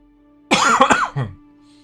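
One person gives a short, harsh, close-up cough and throat-clearing that breaks into a quick second burst, then goes quiet.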